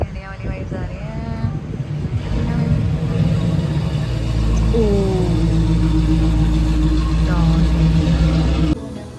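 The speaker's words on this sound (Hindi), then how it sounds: "गाइस देखो अभी गाड़ी जा रही है, इसमें पंजाबी गाने बज रहे हैं" A car passing on a street plays Punjabi songs, the music and engine rumble swelling as it goes by amid wind noise, with someone talking over it at the start.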